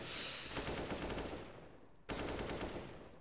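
AK rifle fire in CS:GO on the Cache map during a professional match, a rapid automatic burst followed by another sharp volley, close and crisp, with no talk.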